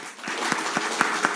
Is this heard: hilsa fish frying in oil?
no